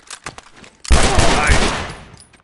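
Enemy rifle fire in the video game The Last of Us: after a quiet moment, a loud sustained burst of rapid gunfire erupts and rattles on for over a second before tapering off.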